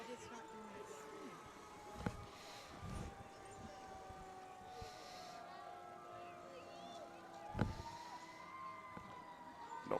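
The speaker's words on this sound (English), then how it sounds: "We can start to hear the sirens." Faint, distant sirens wail beneath steady background rumble at a Christmas parade, with a couple of sharp knocks nearby.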